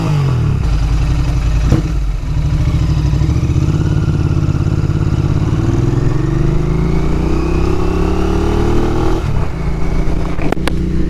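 A 2021 Royal Enfield Interceptor 650 motorcycle engine revving loud and close, a steady throbbing idle that climbs smoothly in pitch as the throttle opens and then drops back near the end.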